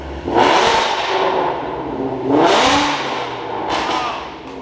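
A car engine revs loudly, its exhaust roaring up in two strong surges and a shorter third, close by with a rumbling idle between.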